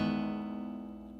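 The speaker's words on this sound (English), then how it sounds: "Here's my guitar. It's an acoustic guitar." A wooden six-string acoustic guitar rings out with a single sustained strum, its tone fading steadily over about a second, close and alone.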